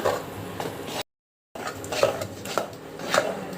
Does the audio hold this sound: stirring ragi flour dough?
yes